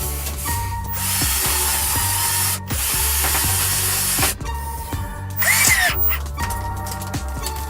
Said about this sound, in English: I'm going to put a screw in at the other end, at the far end.